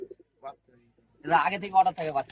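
Young Madrasi pigeons coo in a low burbling run after a few faint sounds, fairly close and clear, with a voice briefly present.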